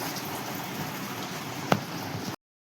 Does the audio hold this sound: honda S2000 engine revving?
no